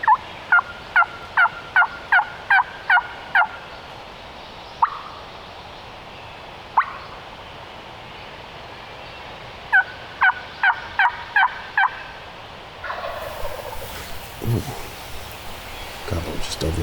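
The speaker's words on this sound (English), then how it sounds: "Gobble just over here." A wild turkey gobbles at dawn in Michigan woods in June, repeated rapid bursts of gobbling in two clusters, fairly close, with rustling leaves and quiet movement afterward.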